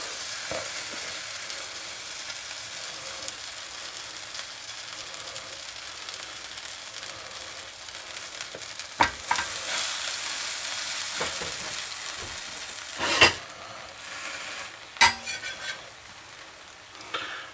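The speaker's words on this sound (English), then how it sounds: "we're going to stick them in a pan and brown them" Burger buns brown in a frying pan with a steady close sizzle, broken by a few light clinks and scrapes of a utensil against the pan.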